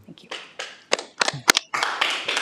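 Audience members clap in short irregular bursts at a county zoning appeals meeting in a hall, the applause starting and stopping in scattered, moderately loud rounds.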